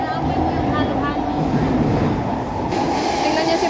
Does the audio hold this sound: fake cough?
no